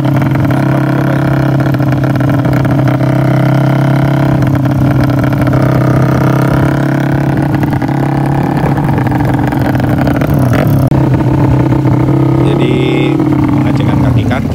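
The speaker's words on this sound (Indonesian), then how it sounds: "Engine sudah hidup dan kita test ride untuk masih tanpa pakai baju." A modified Yamaha Jupiter MX 174cc motorcycle engine running steadily on a test ride, a loud continuous low drone with slight pitch changes under the throttle, close and constant throughout, with a voice talking over it.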